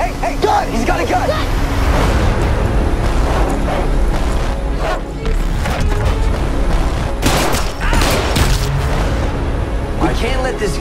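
Gunfire bursts and booms in a 2018 action-thriller trailer for The Assassin's Code, loud and layered under dense music, effects and shouting voices, with a sharp cluster of shots near the end.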